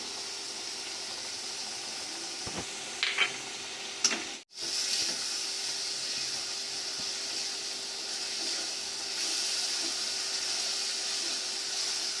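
Chicken keema and liver are fried with chicken masala, black pepper and salt, giving a continuous close sizzle. Scraping stirs and clinks break into it, with a brief gap and then steady frying, and no talking.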